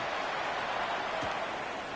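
Pouring rain falls over a football game in Jacksonville, a steady, loud broadband hiss with no breaks.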